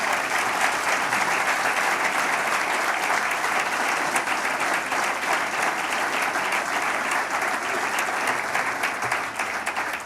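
A hall audience applauds a book presentation with loud, sustained clapping that holds at an even level throughout, with no voices breaking through.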